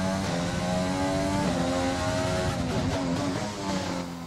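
Formula 1 race car engine in the F1 2020 video game, a loud continuous high-revving whine with shifting pitch, held steady throughout and fading slightly at the end, with no voices.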